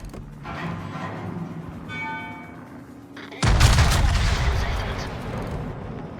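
Bismarck's main battery firing a volley in World of Warships, a sudden heavy boom that rolls into a long, loud rumble, with game sounds and a brief tonal ring just before it.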